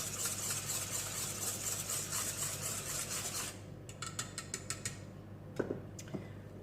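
Dry waffle powders being stirred in a bowl, first with a continuous scraping rasp, then with a run of light, rhythmic clinks of utensil against bowl.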